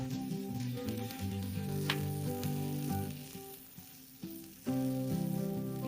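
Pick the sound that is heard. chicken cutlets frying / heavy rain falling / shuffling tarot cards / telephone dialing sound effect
chicken cutlets frying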